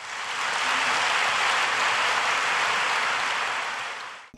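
Applause from the faithful at the Pope's general audience: a dense, even wash of many hands clapping, sustained for several seconds before fading out, with no voices on top.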